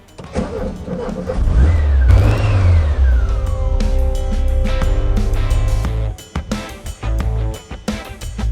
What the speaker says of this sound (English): Now we're going to take the car outside and take it for a spin.